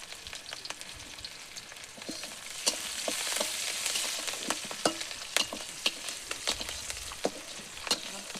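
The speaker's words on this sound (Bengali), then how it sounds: "কাঁচা লঙ্কা দিলাম তেলের উপরে" Green chillies dropped into hot oil, a soft continuous sizzle with sharp crackles and pops that grow more frequent toward the end, close and fairly quiet, with no talk.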